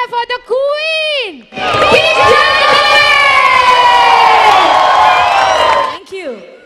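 An audience roars at a live Kinjal Dave dance stage show, the first day of Ramzat 2023. A loud whooping voice opens, then dense cheering, shouting and whistles swell for several seconds before fading into another whoop.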